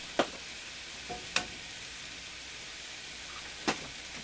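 A pot of water with poached eggs simmers and hisses softly and steadily, broken by three or four sharp clinks or taps of a utensil.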